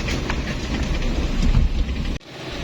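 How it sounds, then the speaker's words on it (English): Rain falls in a steady, loud hiss at a port in Talibon, with a dense wash of noise that cuts out sharply near the end and then resumes more softly. "It's raining."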